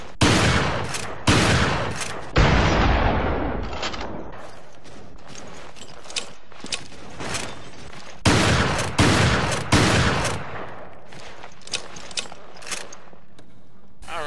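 Shotgun blasts from the M3 in the video game Resident Evil Revelations, several loud booming shots fired in quick bursts with decaying tails, then sparse mechanical clicks and reload sounds between further shots.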